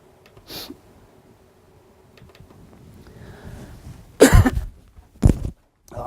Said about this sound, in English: I've been getting over this cough